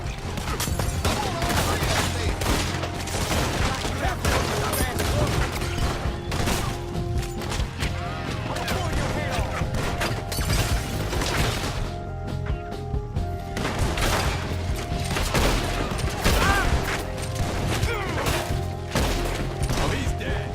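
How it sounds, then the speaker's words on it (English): A sustained gunfight in the video game Red Dead Redemption 2 during a jailbreak: dense, continuous volleys of gunshots and impacts at close range for the whole stretch, with voices intermittently heard beneath the shooting. "We'll have to shoot our way out."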